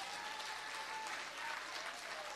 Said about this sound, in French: un gros applaudissement pour moi